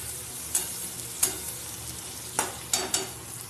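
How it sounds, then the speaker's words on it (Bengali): Onions fry in a pan with a constant low sizzle, broken by five sharp scraping stirs of a spatula spaced unevenly through the short stretch. "পেঁয়াজটা লাল লাল করে ভাজা হতে থাক"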